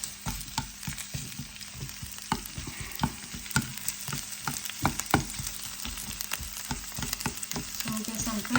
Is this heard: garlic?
yes